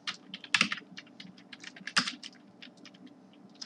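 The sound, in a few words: typing code on a computer keyboard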